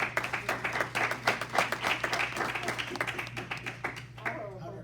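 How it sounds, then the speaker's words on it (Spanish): A church congregation applauding, a dense run of rapid claps that rises quickly, holds steady, then thins out and fades near the end. "Démosle un aplauso al Señor."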